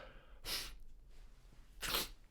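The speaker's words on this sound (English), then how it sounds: "sorry about the sneezes there" Two sharp, breathy sneezes burst out about a second and a half apart in an otherwise quiet room.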